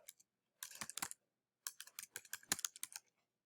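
Two quick bursts of typing on a computer keyboard, with closely spaced crisp key clicks and a short pause between the bursts, close and fairly quiet, with no speech.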